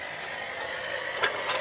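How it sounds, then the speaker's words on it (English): An early steam carriage's high-pressure simple expansion engine, with a water pump feeding its boiler, runs with a steady broadband hiss and rumble, and two brief sharper bursts come near the end. "Its engine is a high-pressure simple expansion engine, which uses a water pump to supply the boiler with water."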